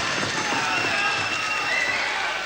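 A boxing arena crowd cheers and applauds for Nigel Benn, a dense, steady roar of many voices and claps that runs throughout without clear peaks.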